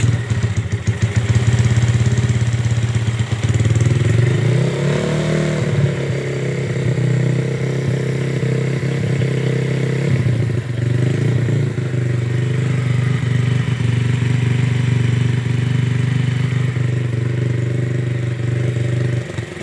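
Freshly assembled Yamaha Vega motorcycle engine starting up and idling steadily, loud and close, with a low thrumming putter and light mechanical clatter, no talking.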